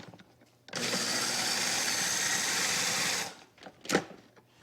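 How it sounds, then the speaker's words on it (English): A food processor blitzes quick-cooking oats with toasted coconut in one loud, steady whir of about two and a half seconds, then cuts off, leaving a couple of brief clatters as the bowl settles. "now I'm going to blitz together some oatmeal and my toasted coconut"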